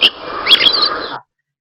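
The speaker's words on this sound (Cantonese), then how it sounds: "呢啲係雀仔嘅叫聲啦" Small birds chirping: a brief cluster of high, quick twittering calls lasting just over a second, fairly close.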